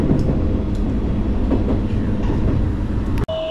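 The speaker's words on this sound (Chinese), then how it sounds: "有田车站开往江北的这个列车哦。" A train runs from Arita station toward Kōhoku in northern Kyushu, Japan, with a steady close rolling rumble and faint clickety-clack of wheels throughout, then a brief abrupt dropout near the end.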